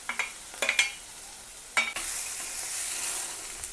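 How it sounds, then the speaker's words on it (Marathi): Onion fries in a pan for a green egg masala and is stirred, with a few clinks of a spoon against the pan, then a steady soft sizzle that continues on its own. "कांदा भाजून थोडा मऊ झालेला आहे।"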